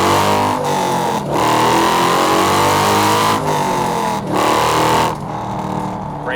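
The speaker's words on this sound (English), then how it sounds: "let's test out the acceleration" A 2002 Chevrolet Corvette Z06 accelerates hard, its engine note climbing through the revs in loud sweeps broken by brief dips at gear changes, heard up close without talk.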